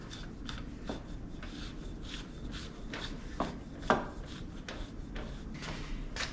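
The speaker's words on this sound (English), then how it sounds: "We could spin this cap on, then we could tighten that bottom nut there." A cap is threaded by hand onto a KYB fork from a 1996 Honda CR250R, giving soft, close, repetitive scraping and rubbing with a few sharper metallic clicks.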